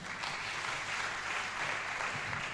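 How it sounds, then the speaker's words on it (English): Steady, sustained clapping from an audience at a law students' association launch event in Kenya, a dense even wash of applause filling the whole moment without voices. "Let's give him a round of applause"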